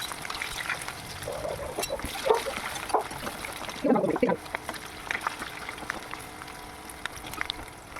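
Halved, salted, pre-boiled baby potatoes deep fry in hot oil for aloo dum gravy, giving a soft, continuous sizzle and bubbling with a few louder splashy crackles as pieces settle into the oil.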